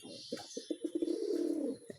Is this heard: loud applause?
no